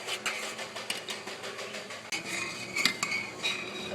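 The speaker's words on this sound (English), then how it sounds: "So just keep stirring, be patient with it." A spoon stirring melting ingredients in a pot for cherry bing bars, with steady scraping and light metallic clinks against the pan, close and continuous.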